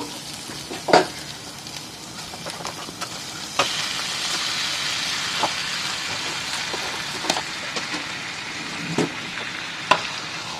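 Marinated chicken with chicken curry masala frying in a pan at home, a steady close sizzle and hiss broken by sharp scrapes and clacks of a spatula stirring, with no talking.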